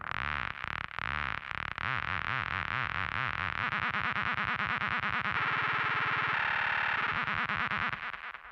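Squelchy psydub synth bass patch built in Serum, its pitch modulated by a second oscillator on a smoother waveform: a continuous, warbling, wobbling tone with shifting bubbly timbre, playing alone throughout.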